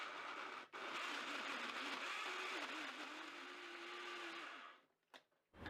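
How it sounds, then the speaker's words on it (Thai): A blender grinds loudly and steadily for several seconds, then cuts off, followed by a couple of brief knocks. "ปิดฝาแล้วก็บดให้ละเอียดนะคะ"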